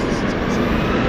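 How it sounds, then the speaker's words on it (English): A steady broadband engine roar from an airliner in SkyTeam livery taxiing at London City Airport fills the whole moment, loud and continuous, with no clear rise or fall. "Oh, the Sky Team's taxiing."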